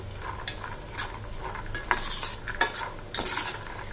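Cashews fry in oil until golden for lemon rice, with a light sizzle under several sharp scraping stirs of a metal spoon against the pan, close and uneven in rhythm.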